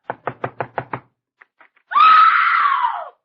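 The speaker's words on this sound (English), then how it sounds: "Go ahead and knock." Six quick, evenly spaced knocks on a door, then a few faint taps, followed by a loud drawn-out scream, from a classic comedy show.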